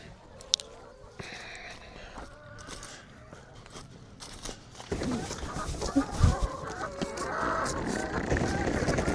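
A flock of about 60 farm chickens clucks while being moved to a new spot. The clucking is scattered and fairly quiet at first, then grows busier and louder with shuffling and handling noise. A voice is briefly audible under it.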